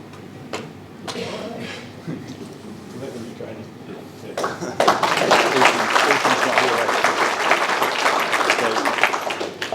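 Audience applause at a combined schools rugby first XV team naming, starting with a few scattered claps and swelling into sustained loud clapping from a crowd for the last half.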